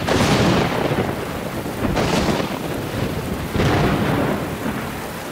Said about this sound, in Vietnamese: mau đi tránh mưa thôi